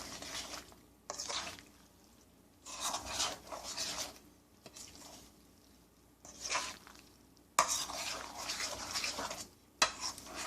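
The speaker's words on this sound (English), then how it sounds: "I'm just going to go ahead and mix this, or attempt to mix this" Chickpea flour frittata batter being mixed in a bowl: intermittent scraping and stirring strokes in short bursts separated by quiet pauses, close and fairly soft.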